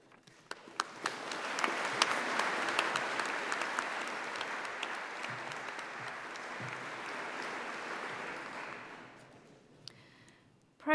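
A graduation ceremony audience applauding in a hall, a dense, sustained wash of many hands clapping that swells within two seconds, holds steady, then tapers off and dies away near the end.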